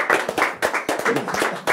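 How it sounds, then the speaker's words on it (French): Audience applauding volunteers after a hypnosis show, a short burst of close, distinct handclaps in quick irregular rhythm, fairly loud and with no talk over it. "On applaudit nos volontaires d'aujourd'hui"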